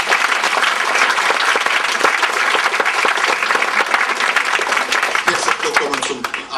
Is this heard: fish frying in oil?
no